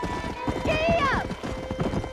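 A horse in the video game Red Dead Redemption clip-clops at a run with a high whinny partway through, while someone shouts briefly over the hoofbeats.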